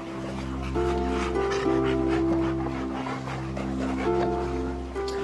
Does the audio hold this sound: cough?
no